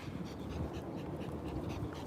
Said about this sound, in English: Dogs are being walked